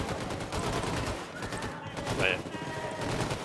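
Rebels trading gunfire in a Wolfenstein II battle, rapid overlapping shots and bursts rattling continuously in the middle distance, with someone briefly speaking over the fighting.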